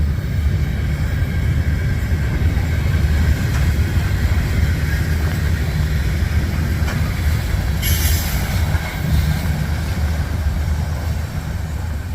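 A freight train with a caboose on the end rolls past on a very cold night, a loud, steady rumble of rail cars and wheels with faint squeals and clicks running throughout.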